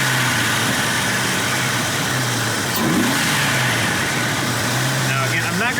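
Jeep Wrangler Rubicon engine, cold and freshly filled with Mobil 1 oil, heard from under the hood as a steady, loud running drone with a mild rev swell partway through.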